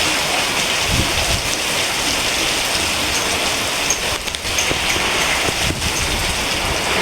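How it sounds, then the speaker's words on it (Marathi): Heavy monsoon rain pours down close by in a steady, loud, unbroken hiss, with no voices. "हे बघा किती पाऊस पडतोय"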